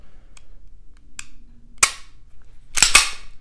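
Smith & Wesson CSX micro 9mm pistol dry-fired: a few sharp, close metallic trigger clicks and faint reset snaps, spaced unevenly over a quiet background.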